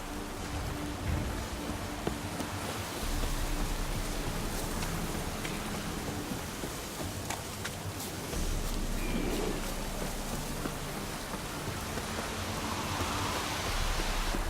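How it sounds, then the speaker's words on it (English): Steady rain falls outdoors as a soft, continuous hiss with scattered patters, fairly faint and unbroken throughout, with no talking. "Looks like rain."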